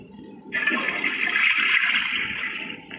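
Toilet flushing in the Granny horror video game, a sudden loud rushing of water that starts after a brief quiet moment and carries on to the end.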